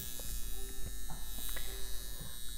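A high frequency facial massage device using argon gas gives off a steady electric buzz with a faint whine, close and continuous but low in level, with no talking.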